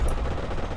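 Sustained automatic gunfire in Forgotten Hope 2, a World War II shooter set at Alam Halfa, a loud dense rattle of machine-gun bursts filling the short moment with no pause.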